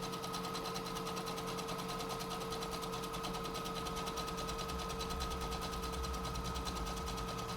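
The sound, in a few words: sewing machine stitching a closed seam on a cloth mask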